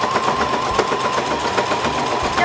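A Brother GS-2700 sewing machine stitches through 16 layers of fabric, a fast even mechanical chatter running continuously at close range with no voices.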